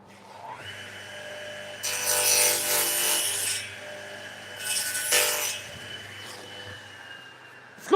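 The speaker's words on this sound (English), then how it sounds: "I have got a mitre trimmer." A mitre trimmer slicing wood in a home workshop, two rough rasping cuts of about a second each, close and loud against a quiet hum, with no talk.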